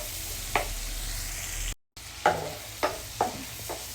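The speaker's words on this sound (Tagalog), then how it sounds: "ilagay na natin yung sibuyas. Ilagay natin sibuyas. Igisa lang natin ng konti." Onions sauté in a pan for butter garlic shrimp, a soft steady sizzle with a few sharp stirring scrapes and clinks of a utensil against the pan, fairly quiet and close, with a brief dropout partway through.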